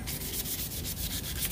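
Rapid back-and-forth sandpaper rubbing on a wooden kite frame, close and rhythmic, with quick repeated strokes and no talking.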